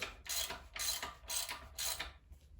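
A socket ratchet tightens a bolt on a GM LNF 2.0 turbo engine during timing work, clicking through four even back-and-forth strokes, close and clear with no talk.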